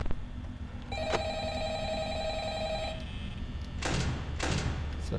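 Telephone ringing in the Five Nights at Freddy's horror game, a sustained electronic ring with a thunk at its start, then two louder bursts of noise toward the end.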